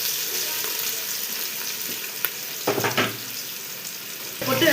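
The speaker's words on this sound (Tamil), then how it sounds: "அப்புறம் வெங்காயம் போட்டுக்குவோம்" Onions frying in oil in a pot for chicken biryani make a bright, continuous close-up sizzle, with a few bursts of stirring and clatter midway and a louder scrape at the end.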